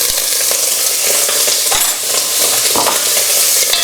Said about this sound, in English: That's it, just starting to smoke. So put the pancetta in there.